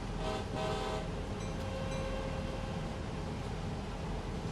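A Northeast Corridor train rushes past in the Train Sim World game: a loud, steady broadband roar of wheels and rails, with brief horn-like tones near the start.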